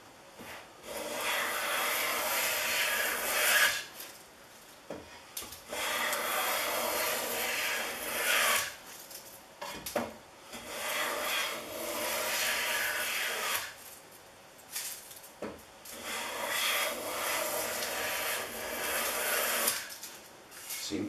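Stanley No.65 low angle block plane shaves clear 3/4 inch pine board, four long steady hissing strokes separated by brief pauses, close and fairly quiet, no talking.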